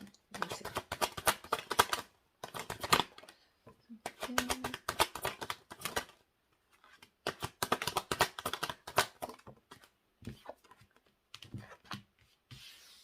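Tarot cards are shuffled and drawn for a reading in brisk bursts of rapid riffling and rubbing separated by short pauses, close up, with a few faint knocks between.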